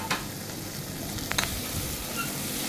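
Tomatoes hit browned onions frying in a pan for prawn rice, a steady close sizzle with a couple of brief stirring clatters.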